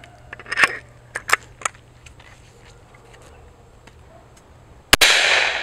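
A single sharp, loud gunshot from a 3D-printed Songbird .357 Magnum pistol firing .38 rounds cracks out near the end, followed by a lingering hiss, after a few faint clicks and taps outdoors.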